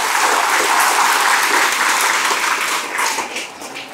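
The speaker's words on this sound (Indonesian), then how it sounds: "Tepuk tangan buat para wali murid ya." Loud applause from a crowd for the students' parents at a boarding school anniversary celebration, a thick burst of clapping that stays strong and then eases slightly toward the end.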